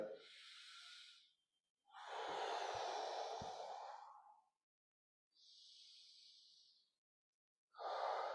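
Slow deep breaths during a yoga-style stretch: three long, airy inhales and exhales with a short pause between each, close and soft.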